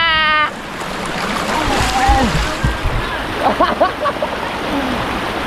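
Clear river water at Lawang rushes and splashes around people bathing, a steady close wash of flowing water with irregular splashes, and faint voices come through now and then.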